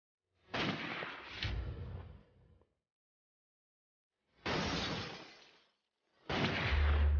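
Three loud sniper rifle shots ring out one after another in a sniper shooting competition, each a sharp blast followed by a long fading echo, with silence between them.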